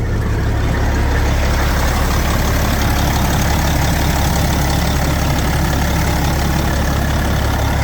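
An engine idles steadily after its first start-up, producing a loud, continuous low rumble with a constant throb. It sounds close and holds unchanged for the whole clip, with no talking.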